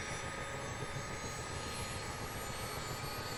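An airliner's engines spool up in Microsoft Flight Simulator 2024, giving a dense, steady roaring whine with high tonal lines that fills the whole stretch without pause.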